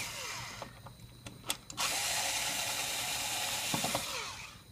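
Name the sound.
removing two screws from 520MD positioner relay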